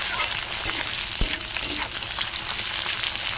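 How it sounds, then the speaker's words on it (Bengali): Chopped tomatoes and onions fry and hiss loudly in a pan, with a few soft stirring scrapes under a constant, close sizzle. "টমেটো কুচিগুলো দিয়ে ভালো করে আমি নাড়িয়ে নেবো যতক্ষণ না টমেটোগুলো নরম হচ্ছে।"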